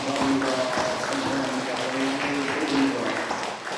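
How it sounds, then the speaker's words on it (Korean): Church congregation claps together during a Sunday worship service, a broad wash of applause under a sustained tone, likely organ or keyboard, running the whole time. "우리 하나님께 감사와 찬송과 영광의 박수를 올려드리겠습니다."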